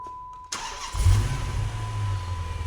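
A supercharged Dodge Magnum grocery getter cranks with a brief whir, then roars to life with a loud burst and settles into a deep, steady, slightly lumpy idle, close up, with a faint supercharger whine.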